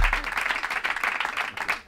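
Audience applause at a Spanish radio comedy show taping, a short burst of dense clapping from a crowd, close and fairly loud, fading slightly at the end.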